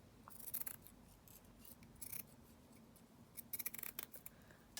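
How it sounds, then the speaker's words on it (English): Scissors trimming the edge of a fabric tag, with two bursts of quick close snipping and rasping cuts separated by a quieter pause in an otherwise hushed room. "Let's just trim this down here on this edge."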